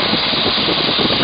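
Wind and engine roar of a Boeing Stearman N2S-3 biplane in flight with the nose pulled up, a steady loud broadband rush with no talk over it.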